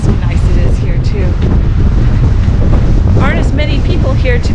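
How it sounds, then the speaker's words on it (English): Strong wind buffets the microphone with a constant loud roar at a cold Texas beach by the sea, with surf and spray in the mix and a person's voice briefly audible over it. "It's pretty cold and windy. My eyes are watering, it's so windy."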